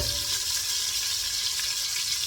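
Sausage frying in a pan while cabbage with bacon and shrimp is being prepared, a steady close sizzle with continuous crackling hiss and no pauses.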